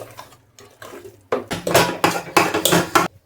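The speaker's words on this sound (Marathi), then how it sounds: "किती वेळ झालं मी ह्या पुरणला मिक्स करते." Thick puran filling of cooked lentils being stirred in a cooking pot: a spoon scrapes and knocks against the metal in quick repeated strokes, softer at first, then louder and busier, close up with no talk.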